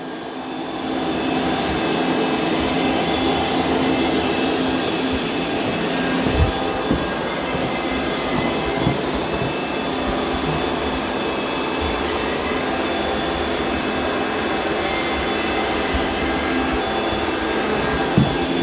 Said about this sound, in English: So the Roomba's doing a pretty good job with those muddy paw prints